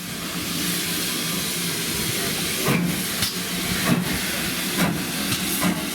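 Steam locomotive Wightwick Hall running round its train on the Bluebell Railway, with steady hiss and rumble and several sharp chuffs or bursts at intervals, moderately close.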